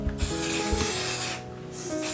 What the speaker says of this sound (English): So I'm going to spray it.